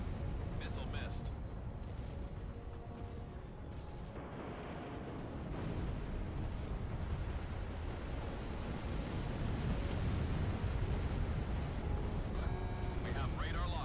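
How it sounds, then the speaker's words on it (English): Missile striking a target in the Ace Combat 6 video game, a heavy rumbling blast over constant jet and engine roar, with radio voices talking throughout. "Missile struck target."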